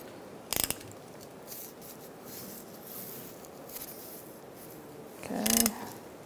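A ratchet cranks down a bolt on the lower control arm of a 2002-2006 Honda CR-V during a bushing replacement, giving two brief bursts of quick clicking separated by a quiet stretch of faint shop noise.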